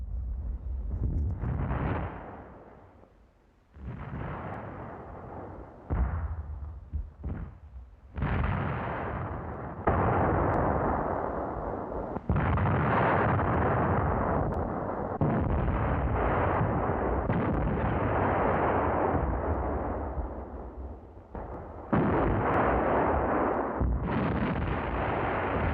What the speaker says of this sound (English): Heavy field howitzers.